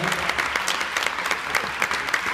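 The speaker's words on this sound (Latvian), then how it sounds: "Vētraini aplausi par jau trešo nodieto deju." Audience applause bursts out after a senior couple's third dance at a hobby-level standard ballroom competition in Jaunmārupe, a dense, steady roar of many hands clapping close by that holds strong throughout.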